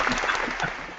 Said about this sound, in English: I'll give you a round of applause for it